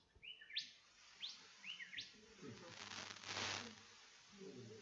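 Two male birds in a territorial dispute trade sharp rising chirps back and forth, several quick calls in the first seconds, followed by a soft rustling hiss.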